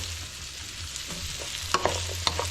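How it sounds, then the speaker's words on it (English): Sausage frying in a pan for a Thanksgiving stuffing, a close sizzle with a few sharp spatters and stirring clacks toward the end, with no talking. "Let's render this down. I'm gonna put the sausage in there."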